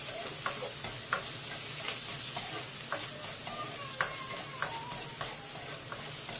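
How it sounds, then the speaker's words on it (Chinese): Sliced scallion, ginger and garlic stir-frying in a little oil in a wok, a steady close sizzle broken by repeated spatula scrapes and taps at an uneven pace, no voices. "起锅倒入少许食用油，接着放入葱姜蒜片爆香。"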